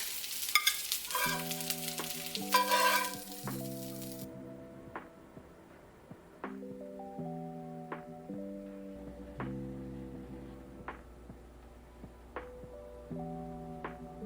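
Danish meatballs (frikadeller) sizzle quietly in a pan while tonal chimes ring out in steps over it, with occasional clicks and scrapes as they are moved to a plate.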